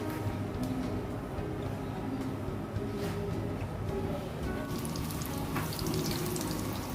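Samosas frying in a kadai half filled with hot oil, giving a steady, dense crackling sizzle that runs without break through the clip, with no talking over it.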